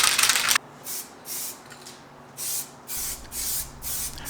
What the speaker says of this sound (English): Shake the can 2 to 3 minutes.